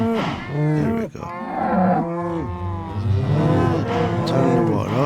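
Cows on a Minecraft video game farm give a string of overlapping moos, near and steady, one call following another with hardly a break.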